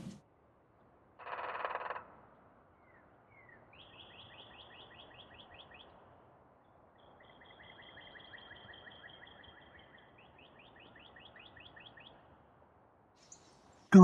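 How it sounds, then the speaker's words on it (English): Birds call in the woods around a hammock camp, with quick repeated chirping and tapping trills in short bursts, one louder rustle early on, and otherwise a quiet, distant setting; no talking. "Hear the woodpeckers out there?"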